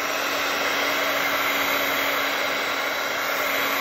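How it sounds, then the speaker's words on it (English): A hair dryer blows steadily and loudly on a pressed flower craft, giving a constant, unbroken whoosh with a faint motor hum that continues without a break. "I know you hate to hear the dryer thingy, so I apologize"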